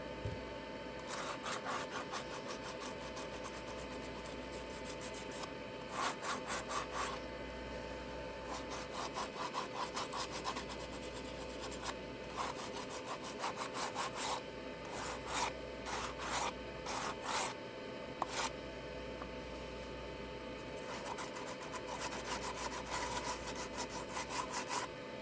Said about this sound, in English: Yeah, I'm sanding this to see